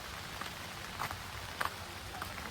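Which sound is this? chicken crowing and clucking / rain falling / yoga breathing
rain falling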